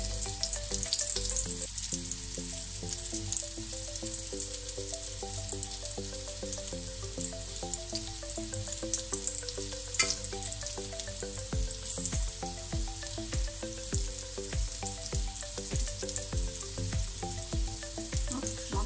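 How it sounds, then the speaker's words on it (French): Meatballs sizzling steadily in a frying pan after being turned over, a dense continuous crackle close by with faint popping, alongside a background of soft music notes and no talking. "vous pouvez retourner vos boulettes. Et vous faites cuire de l'autre côté."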